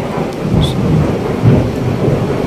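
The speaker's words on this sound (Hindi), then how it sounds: "बहुत ज़्यादा बारिश हो रही है, और सुबह से ही बारिश लगी है।" Heavy rain pours down in Shimla with a deep rumble of thunder, a loud, dense roar that stays constant throughout.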